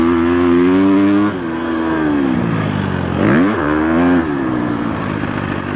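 A Husqvarna FC250 four-stroke dirt bike engine revs loud and close as it is ridden, pitch climbing and dropping with throttle changes and a sharp rise and fall mid-way.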